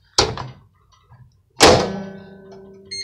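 A microwave oven door clunks shut twice, each a sharp close thunk with a short ringing decay, the second louder and followed by a faint hum, no voices.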